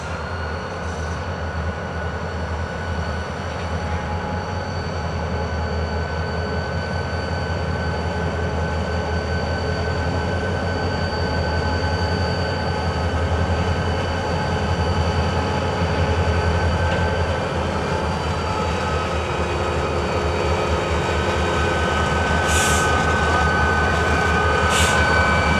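Two freight locomotives running light and coupled back-to-back rumble past close by, a sustained loud diesel drone with rolling wheel and rail noise that stays steady for the whole stretch, with no voices.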